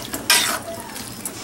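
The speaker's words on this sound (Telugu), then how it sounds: "బాగా గట్టిగా ఉంటే కొద్దిగా నీళ్ళు పోసి కలుపుకోవాలి." A spoon stirs thick curry in a metal pan, giving a few short scraping clatters with quieter gaps between them, close up and without any talk.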